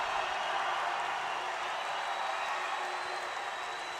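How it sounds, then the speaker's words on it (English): A crowd at a judo Grand Prix final in Budapest applauds in a dense, continuous wash of clapping and cheering that holds steady throughout and sounds somewhat distant, as in a large arena. "A happy crowd."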